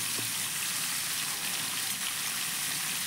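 Papaya and potato pieces fry in hot mustard oil, giving a steady, even sizzling hiss that holds unbroken throughout.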